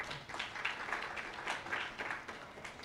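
An audience at a university matriculation ceremony claps for newly welcomed students, a brief burst of steady, moderately loud applause from a room of people.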